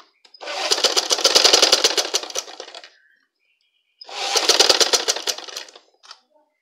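A sewing machine stitching three layers of cloth for a face mask runs in two long, loud, rapid rattling bursts of about two and a half and two seconds, separated by a pause with a few faint clicks.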